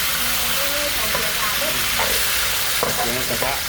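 Steady broadband sizzle of pork cartilage frying in a hot pan, loud and continuous, with faint clinks and a few brief tonal squeaks over it.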